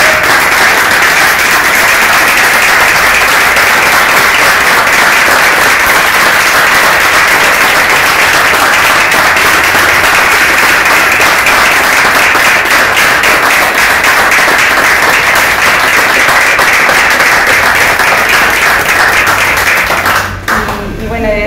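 Sustained, loud applause from a large gathering honoring a beloved late teacher, dense steady clapping holding for about twenty seconds before tapering off abruptly at the end.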